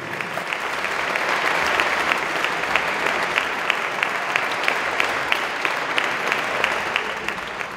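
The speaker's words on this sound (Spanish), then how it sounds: "os pido un fuerte aplauso para Daniel Gutiérrez." A concert audience at an outdoor lyric opera recital applauds a tenor singer, steady, moderately distant clapping with a few sharper individual claps, continuing evenly without speech.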